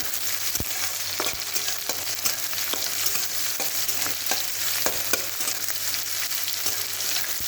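Loud, steady sizzling of eggs frying in hot oil until browned, with occasional sharp clicks of a utensil against the pan.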